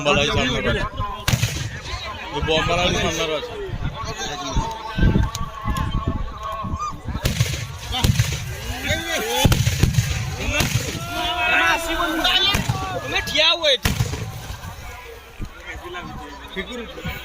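Firework rockets burst repeatedly at the Baneshwar Baba temple, a rapid series of loud bangs and whooshes layered over constant crowd chatter and honking.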